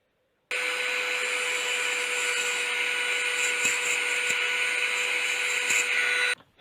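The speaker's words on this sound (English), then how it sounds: "get the little grinding disc off on my Dremel and just shave that down a bit" A Dremel with a small grinding disc shaves down metal on a motorised bike build, a steady high-pitched whine starting abruptly, holding constant for about six seconds with brief scraping catches, then cutting off.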